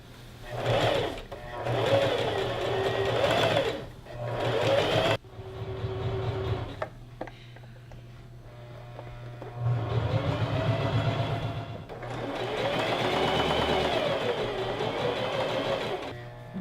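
A sewing machine stitches skirt fabric in several bursts of steady whirring, stopping and starting with short pauses between runs, close and clear.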